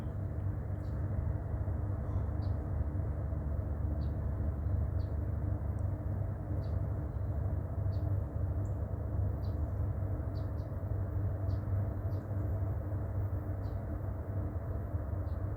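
A train locomotive works up a grade, its engine giving a steady, distant low rumble that holds evenly throughout, with faint bird chirps scattered above it and no speech.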